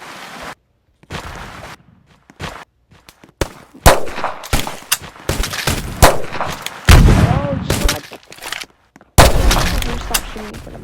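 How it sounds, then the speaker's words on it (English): Pistol fire rings out in an arena video game, with sharp shots in quick irregular bursts and rapid volleys, some loud and close, mixed with excited talking between the shots. "Stop shooting me from the back."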